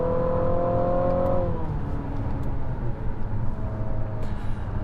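Turbocharged engine of a 2022 Infiniti QX55 revving to 4,000 RPM from inside the cabin, a loud steady drone whose rising tones level off and fall away, with faint clicks and no talk.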